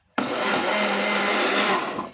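Small borrowed blender whirring at a steady high speed for about two seconds, switching on abruptly and running with a dense, buzzing motor roar before easing off, close and loud with no voices.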